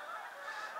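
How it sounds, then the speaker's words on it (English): Canada geese honk as they fly overhead, a short burst of nasal calls heard at moderate distance and fairly faint. "Some geese going over right now."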